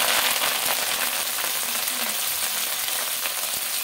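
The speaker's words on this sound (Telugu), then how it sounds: "ఇప్పుడు మనం చక్కగా కొత్తిమీర అయితే వేసేసుకుందాము. కొంచెంగా వేసుకొని ఫ్రై చేసుకోవాలన్నమాట." Coriander leaves fry in hot oil, giving off a steady, close, fairly loud sizzle with dense crackling that continues unbroken from start to finish, with no talking.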